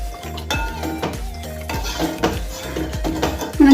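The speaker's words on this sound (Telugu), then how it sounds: "మంట మీడియం ఫ్లేమ్ మీద ఉంచుకొని కలుపుకుంటూ ఉండాలండి." A spoon stirring thick coconut pudding in a metal pot on a medium flame, with repeated close scraping and clinking against the pot in an uneven rhythm.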